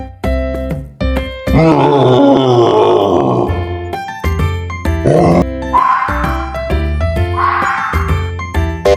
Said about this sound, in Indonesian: wow, Gorilla.